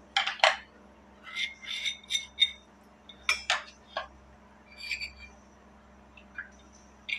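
Ground spices are mixed together in a dish, with a string of light metallic clinks and scrapes of a spoon against the dish, spaced irregularly across several seconds over a faint low hum.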